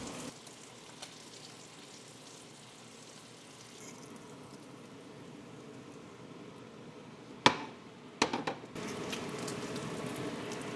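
Bacon frying in a pan gives a steady, crackling sizzle throughout, broken near the end by a few sharp knocks and clatters, then a louder burst of sizzling.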